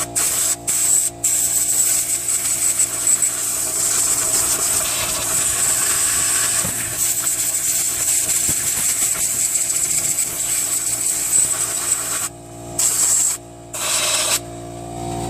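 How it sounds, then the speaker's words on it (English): An air compressor nozzle blasts air through a Craftsman 9HP Tecumseh snowblower engine that may hold a rat's nest, a loud continuous hiss lasting several seconds that cuts out in short breaks near the end. "I got my air compressor working. I'm gonna blow this out."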